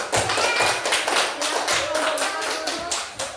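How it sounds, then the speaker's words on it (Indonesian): A group audience claps for a presenting team at a student gathering, loud and close, with distinct rhythmic hand claps in a fairly regular beat and some voices faintly underneath. "beri tepuk tangan untuk kelompok 2"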